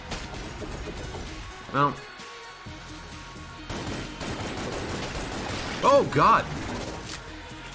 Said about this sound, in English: I like the sound effect of the katana bullets.